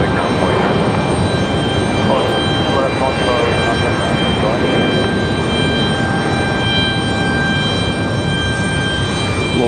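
Southwest Airlines airliner arriving at Raleigh-Durham International, a steady loud broadband aircraft roar with a faint whine running throughout, with voices talking over it.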